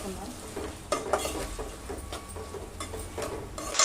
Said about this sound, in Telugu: ఆనియన్ కొంచెం మంచిగా ఫ్రై అవ్వాలి